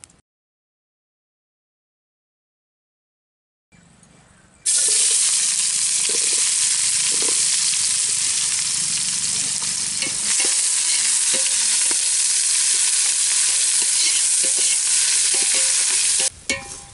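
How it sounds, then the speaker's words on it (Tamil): Onions sauté in a pan in a village kitchen, a loud continuous sizzle with occasional scrapes and clicks of stirring, starting after a few seconds of silence and a brief quieter stretch. "வெங்காயம் எல்லாம் வதங்கிடுச்சு"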